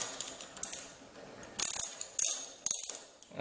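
A ratchet tightens the fitting on a Ninja 300 shorty brake lever in a few close, sharp bursts of rapid clicking, separated by brief pauses, with fainter handling clicks before them.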